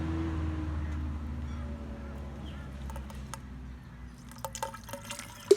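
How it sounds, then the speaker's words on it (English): Rainwater trickling and dripping through a DIY PVC pipe herb planter tower, a low gurgling flow with scattered splashes and drips that grow busier and louder toward the end, close by. "See, water is flowing everywhere."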